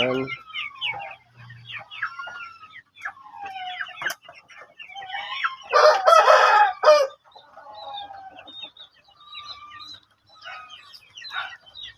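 Several chickens cluck and chatter nearby in an uneven stream, with a brief loud squawking flurry midway before the clucking settles again.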